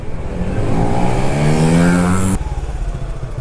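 A Senlo M5 Plus motorcycle engine with a TPS sensor problem runs loudly nearby, its revving pitch climbing and holding before dropping back to a rough idle.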